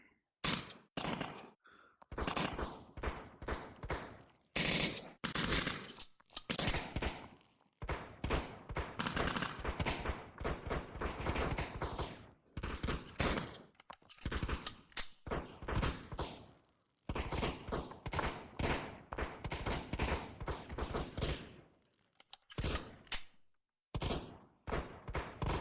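Gunfire in the VR shooter game Brutalistick, repeated bursts of rapid shots broken by short gaps, loud and close, spread across the whole stretch with no talking.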